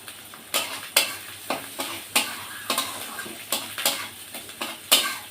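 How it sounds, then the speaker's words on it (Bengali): Whole garlic cloves going into a pan of frying masala for a fish kofta curry bring a soft sizzle with repeated sharp spoon scrapes and knocks against the pan, about two per second, up close, with no talking. "এবার আমি যে রসুনগুলো কোয়া ছুটিয়ে রেখেছিলাম আস্তে আস্তে গোটা রসুন এটা দিয়ে দেবো"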